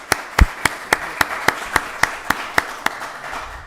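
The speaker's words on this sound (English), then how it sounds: "round of applause." Clapping at a county board of commissioners meeting comes as about a dozen crisp, evenly spaced claps at a brisk, steady beat, close and clear over a quiet room.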